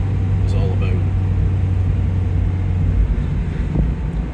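A 2020 Mazda MX-5 Miata being driven along a winding mountain road, a steady low engine and road drone with wind rumble heard from inside the car.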